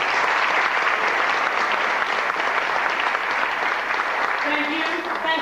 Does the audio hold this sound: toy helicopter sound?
no